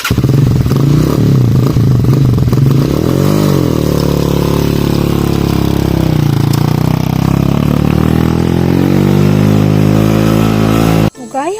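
An overloaded habal-habal motorcycle labors along a rough road, its engine droning and shifting pitch steadily throughout, with rattles and clatter over the bumps, and voices talking over it before it cuts off near the end.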